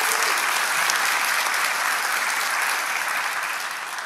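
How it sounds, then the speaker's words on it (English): Church congregation clapping together, a loud, even, sustained burst of many hands that thins slightly toward the end, heard alone without speech. "give the Lord a hand clap"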